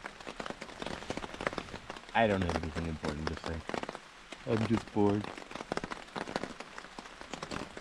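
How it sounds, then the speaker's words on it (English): Steady rain falls throughout, a continuous hissing patter at night, while a person talks close by over it. "I hope you can hear me over this rain."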